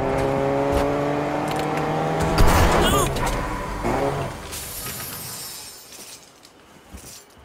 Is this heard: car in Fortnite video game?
yes